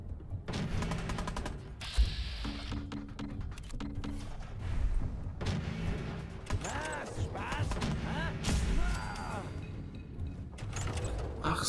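Gunfire in the video game Fallout 4 from a weapon that must be reloaded after every shot, heard as loud sharp reports and mechanical reload clicks amid game sounds, with someone talking over it.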